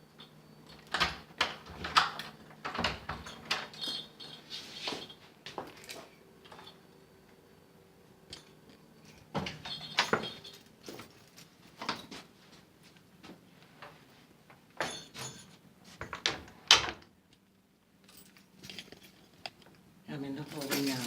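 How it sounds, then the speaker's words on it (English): An apartment door is unlocked and opened, giving scattered clicks, latch clunks and key rattles with pauses between, close by, with a person talking at points. "You see, I'm opening the door."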